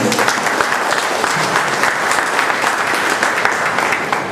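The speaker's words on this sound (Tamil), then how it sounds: "முதல்ல இந்த விழாவை அமைந்த அமைப்பாளர்களுக்கு ஒரு பெரிய கரகோஷத்தை கொடுக்கலாம்." An audience at a Chennai bloggers' meet gives the event organizers a big round of applause, loud, dense and close clapping that stays steady throughout.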